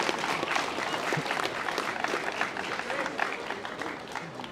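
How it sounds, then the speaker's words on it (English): A crowd applauds during a speech at a football final, a steady, even wash of many hands clapping at moderate volume that continues without a break. "Just a round of applause."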